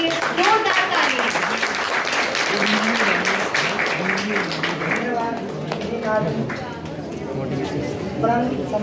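Audience clapping at a community event honouring guest Dinesh Mukherjee, a dense sustained round of applause mixed with a speaking voice over a hall sound system.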